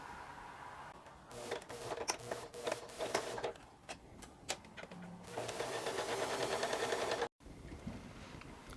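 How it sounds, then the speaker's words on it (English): A sewing machine stitches down both side seams of a modern shift dress, running in bursts of rapid mechanical whirring separated by short pauses and clicks. It is fairly close and heard alone. "I'll sew all the way down both sides to the point where my gusset ended"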